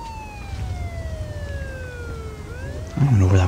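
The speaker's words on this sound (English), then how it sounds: "I don't know where that police car comes from anyways" Siren from a police car in Mafia II, a steady wailing tone sweeping slowly downward and then back up, carried over low rumbling traffic noise, with a louder engine-like roar entering at the end.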